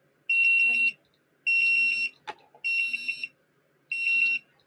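Chinese radiation detector sounding its alarm: four sharp, high electronic beep bursts in a steady on-off pattern, with a brief click and faint voice in between.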